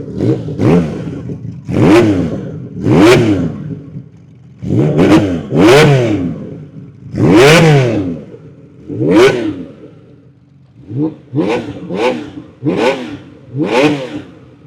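A 1979 Honda CBX1000Z six-cylinder motorcycle with a 6-into-6 exhaust, already warmed up, revs hard up close in about a dozen loud throttle bursts, each rising and falling, with short idle gaps between them.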